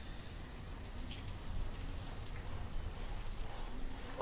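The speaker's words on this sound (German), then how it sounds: "Und wie immer regnet's." Steady rain falls in the medieval town-building game Banished, a soft, even hiss of drops with a low rumble beneath, faint and continuous throughout with no talking.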